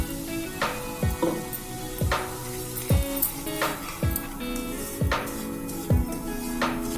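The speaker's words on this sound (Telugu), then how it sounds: "దోరగా వేయించుకుందాము బొంబాయి రవ్వ." Bombay rava semolina roasting in melted ghee in a pan, a soft steady sizzle with a regular series of sharp clacks roughly once a second as it is stirred and scraped, fairly quiet and without talk.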